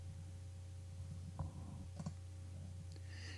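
Computer mouse clicks, a few crisp isolated taps spaced apart over a steady low electrical hum, close and fairly quiet.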